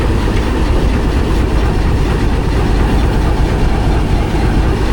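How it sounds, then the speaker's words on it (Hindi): A locomotive heading off for shunting at Attock City Junction rumbles loudly and steadily close by, a continuous deep engine drone with faint rail clatter and no voices. "दूसरा लोकोमोटिव जो है वो शंटिंग के लिए जा रहा है"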